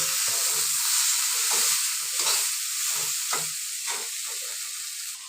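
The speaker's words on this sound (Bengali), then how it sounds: "এইবার একটু কষাবো কষিয়ে জল দেবো" A cauliflower, potato and bean curry sautéing in a pan, giving a steady loud sizzle and hiss broken by repeated stirring scrapes, with no talking.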